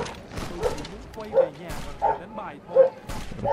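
A dog barks outside, heard through an open window, with several short, moderately distant barks spaced irregularly while someone talks over them.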